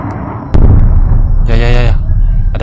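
A sharp video game bomb blast hits suddenly, followed by a rumbling roar and a second burst of crackling debris, loud and close.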